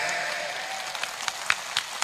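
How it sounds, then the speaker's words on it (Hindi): A crowd at a BJP political rally in Tonk-Sawai Madhopur claps in scattered, irregular bursts that grow sharper toward the end, fairly faint and thin over a background hiss. "या ताली कम किया बजाई रहे भैया।"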